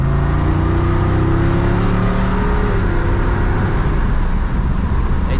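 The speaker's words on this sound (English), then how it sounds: "the exhaust stays open more and gets a good rumble to it" A Jeep Wrangler 392 engine rumbles deep and loud through its open exhaust, rising in pitch as it revs up, steady and close throughout.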